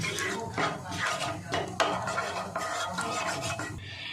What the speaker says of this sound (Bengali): আমি এখানে তেল আর ঘি মিশিয়ে দিচ্ছি